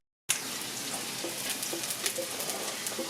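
Onions and garlic sizzle as they hit a small amount of hot oil, a sudden onset of steady, close frying crackle that continues evenly, with no voices.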